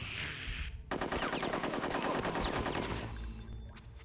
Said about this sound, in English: I'm gonna shoot until I have to reload.